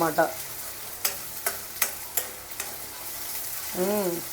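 Masala for a crab curry frying in hot oil, with several sharp clinks of a spoon stirring the pan over a faint sizzle, ending in a brief rising whine.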